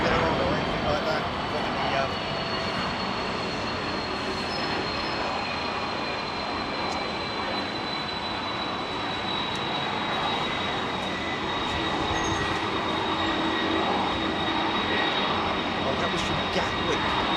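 A Finnair Airbus A330 at Heathrow runway 27R gives a continuous broadband jet engine roar with a faint whine on top, steady and moderately distant throughout.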